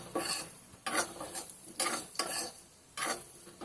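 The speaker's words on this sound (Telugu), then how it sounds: "అలాగే పచ్చికారం 1 అర స్పూను వేసుకుని శుభ్రంగా కలుపుకుందాం" Potatoes with green chili powder being stirred in a pan, a spoon scraping in repeated bursts with pauses between strokes, faint sizzle underneath, close and fairly quiet.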